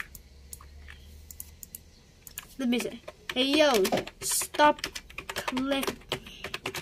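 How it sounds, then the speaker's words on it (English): Mouse and keyboard clicking during Pet Simulator X gameplay, a steady patter of small clicks running under a person talking throughout. "hey yo, stop clicking."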